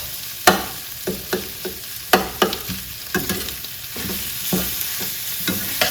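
Onions and green peppers frying in a pan, a steady sizzle under a rhythm of spatula scrapes and taps, close and moderately loud.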